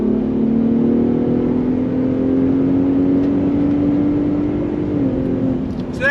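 A 2022 Ford F-150 Raptor pickup with a 10-speed gearbox accelerates under throttle, its engine and exhaust droning loud and close in a steadily rising tone, easing slightly near the end.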